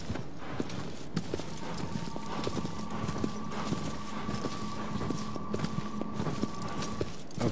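Horse hooves clip-clop in a steady trotting rhythm from the video game Shadow of the Colossus, with a faint sustained tone humming underneath.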